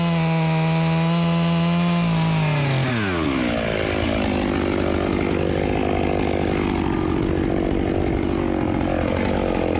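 A chainsaw cuts into an ash tree, its engine rising from a steady idle drone into a loud, high roaring whine as the chain bites into the brittle wood and holds there continuously.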